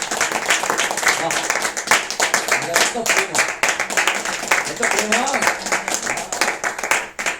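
Worship congregation clapping hands in rapid, steady bursts throughout, mixed with singing and voices, lively and close.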